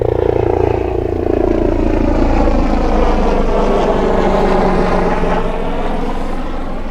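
Aircraft passing over a river where wild brown trout are fly-fished in the UK: a continuous loud, throbbing rotor-and-engine drone that holds steady throughout and fades slightly toward the end, with no voices.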